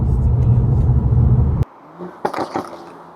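A 700 hp BMW G87 M2 engine gives a deep, loud, rumbling roar for about a second and a half, then cuts off abruptly, followed by a few sharp clicks and rattles.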